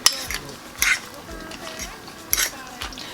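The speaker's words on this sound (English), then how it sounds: "I'm just going to put a bit of salt there and mix it up" Ugandan rolex ingredients being mixed in a pan after salt is added: a utensil clinks and scrapes against the pan in a few sharp strikes, with soft stirring and faint sizzling between them.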